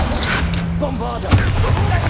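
A Bombarda blasting spell from the game Hogwarts Legacy goes off as one sharp thump amid clattering mechanical game noise, with a voice speaking over it.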